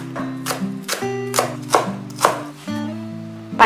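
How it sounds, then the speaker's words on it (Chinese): A knife chopping scallion whites on a cutting board, about eight sharp, evenly spaced thuds close up, laid over soft background music with no voices. "切点葱白"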